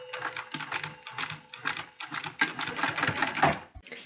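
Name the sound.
sewing machine sewing a backward stitch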